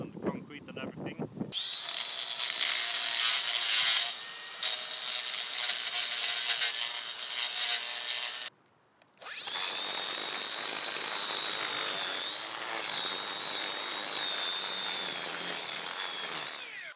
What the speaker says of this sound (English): To smoothen the asphalt, I have this diamond tool for the angle grinder, and this just makes everything smooth.